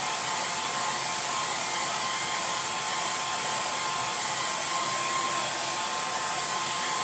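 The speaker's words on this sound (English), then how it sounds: "I'm drying on a low setting to start with so I don't blast it everywhere." A hair dryer on its low setting drying a watercolour painting, giving a steady, continuous airy whoosh with a faint whine that holds at an even level throughout, with no voices.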